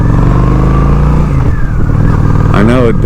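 A Honda Shadow 750 motorcycle engine runs with a loud, close, low rumbling throb throughout, and a person talks over it near the end.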